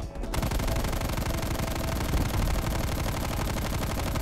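Sustained full-auto fire from a Stoner 63 machine gun in a first-person shooter game, a dense, loud, continuous rattle of rapid shots lasting several seconds after a brief quiet start, with no talking.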